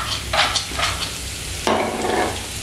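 Onion dropped into hot oil in a pan, giving loud bursts of sizzling and stirring that swell and fade in short waves, close and with no one talking.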